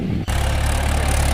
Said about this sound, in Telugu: ఇప్పుడు ట్రాక్టర్ చూపిస్తాం గైస్, అలాగే అది పొలాన్ని దున్నుతుంది